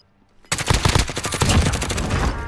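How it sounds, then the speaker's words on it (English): Rapid, loud bursts of automatic gunfire in Call of Duty Warzone erupt after a half-second of near silence, then continue as a dense, sustained rattle of overlapping shots. "I'm getting shot at. No, I'm not. It's just shooting to my left."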